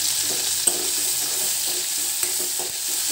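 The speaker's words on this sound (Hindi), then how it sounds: "टमाटर को अच्छी तरह से भूनें" Tomatoes fry in a pan with green chillies for a Bengali katla fish curry, a continuous soft sizzle with a few sharp clicks of a spoon stirring and scraping against the pan.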